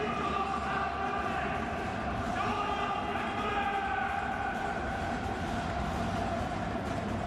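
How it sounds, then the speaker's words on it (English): Hugely enthusiastic football crowd at the Japan National Stadium for a Ventforet Kofu versus Zhejiang FC Asian Champions League match, a steady roar of chanting and sustained tones from the stands under commentary. "Hugely enthusiastic crowd at the Japan National Stadium"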